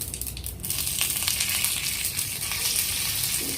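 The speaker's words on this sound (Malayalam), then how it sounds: "ഡ്രൈ ചില്ലി വരമുളക് അത് ഇട്ടു ഇനി അടുത്തത് കറിവേപ്പില ഇട്ടു" Dry red chillies and curry leaves sizzle in hot oil with fenugreek, a steady, close, crackling fry that holds without pause throughout.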